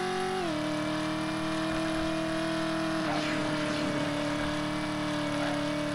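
In the game Driver, a heavy van engine drones at speed, steady and loud with a tonal whine that dips slightly in pitch partway through, under continuous road and traffic noise.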